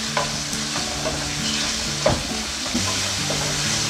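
Small chicken pieces fry in a pan, a steady close sizzle broken by repeated scraping stirs and occasional utensil knocks.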